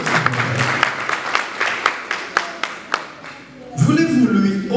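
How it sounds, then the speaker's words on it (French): Wedding guests clapping in a brisk burst of applause at a ceremony, close and fairly loud, tapering off before a voice begins speaking near the end. "Applaudis, mesdames et messieurs."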